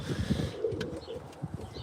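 Pigeons in a loft give soft, low cooing calls, repeated in short bursts and heard fairly close by, with a little rustling around them.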